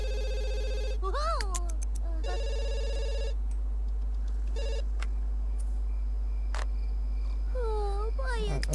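A phone rings in The Sims 3, its repeated electronic tones sounding in short bursts over the game's background music and effects while a person talks.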